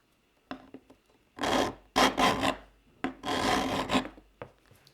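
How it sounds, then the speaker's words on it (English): A metal file rasps against the edge of an old chisel in a series of close, loud strokes: a few light taps first, then three long grinding passes with short pauses between them. "I want you to listen to the sound that this file makes"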